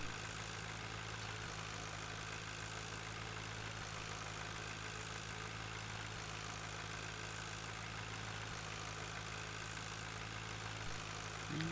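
A tractor engine idles in the farming video game Farming Simulator 2013, a constant low drone that holds steady and unchanging throughout, with no talk over it.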